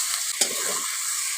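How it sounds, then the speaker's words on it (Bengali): Fried chicken being stirred and sautéed in a pan, with a continuous soft sizzle and one sharp scrape of the spatula followed by a brief rustling stir. "চিকেনটা দিয়ে ভালো করে নাড়াচাড়া করে আরও কিছুক্ষণ ধরে কষে নেব।"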